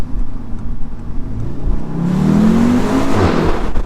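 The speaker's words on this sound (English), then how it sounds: "It's just that DSG fart is... it's like a thunderclap." A 2017 Audi TTS with a DSG gearbox revs hard in first gear, the exhaust note rising steadily from a low rumble to a strained climb, loud and close, with a sharp crackling burst near the end.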